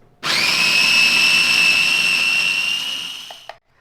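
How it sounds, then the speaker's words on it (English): A small food processor finely minces quartered onions, its motor starting abruptly into a loud, steady high whine for about three seconds before stopping, followed by a short clatter. "I've got my onions quartered here in the little food processor, and I'm just gonna chop until they're finely minced"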